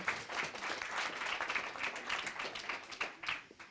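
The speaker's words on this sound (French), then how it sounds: "On peut aussi l'applaudir." Applause from the audience for a film's music supervisor at a music masterclass during a festival in Les Arcs, with sustained crowd clapping that swells and then thins toward the end.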